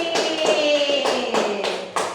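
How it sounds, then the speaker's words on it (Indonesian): A classroom of students applauding a classmate named Silvi, a short burst of claps close by, uneven and brief, with some faint tonal ringing underneath. "Tepuk tangan buat Silvi"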